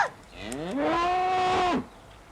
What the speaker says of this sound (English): What was that? Only a cow.